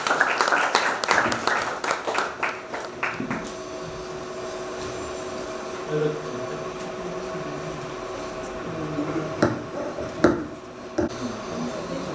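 A burst of audience applause at a school quiz show fades quickly into a steady mechanical hum, with a few scattered claps and knocks later on.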